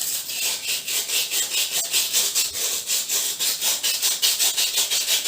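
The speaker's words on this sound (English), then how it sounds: "This is known as electro-coated plate or the scrubber sheet." An electro-coated scrubber sheet rubs rust off a metal rod in quick back-and-forth strokes, each pass a loud, raspy scrape in an even, repeating rhythm.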